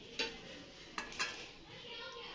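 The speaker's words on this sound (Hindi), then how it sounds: "जैसे कि ये आलू हमने पहले उबाल लिए थे, ठीक है। अब इसकी कटिंग करेंगे" Knife cutting boiled potatoes on a board, with three sharp, close taps at the start and middle, and a soft scraping background between them.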